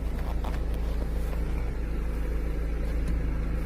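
A 2016 Mini Cooper SD diesel engine idles with a steady low rumble heard from inside the cabin, even and fairly quiet throughout, with no voices.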